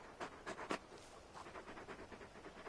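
Torgal, the large dog in Final Fantasy XVI, panting in quick faint breathy puffs, a few stronger huffs at first and then a steady softer rhythm, close and quiet.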